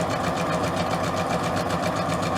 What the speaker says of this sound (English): I always do this if I'm sewing on fabric.